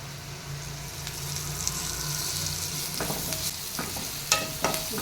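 Green pea masala sautéing in a pan, a steady sizzle of frying with scraping stir strokes from a spoon against the metal, a few sharper clicks near the end, no voices.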